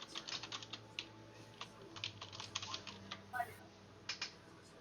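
Computer keyboard typing during an online Dungeons & Dragons session, a rapid irregular run of close clicky keystrokes in short bursts throughout, with a faint background hum.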